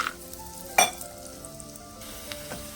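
Peanuts fry in a pan for a Telangana-style peanut chutney, a soft steady sizzle close by with a couple of sharp clinks from a spoon or the pan, no voices.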